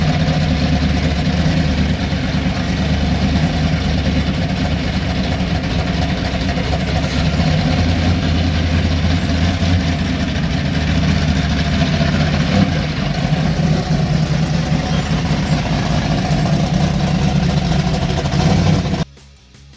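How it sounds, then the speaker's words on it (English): A Pontiac 301 V8 in a 1968 Firebird race car idles steadily on a dyno, a loud, low, even rumble that holds for the full length before cutting off abruptly at the end. "Let's move it onto the rollers."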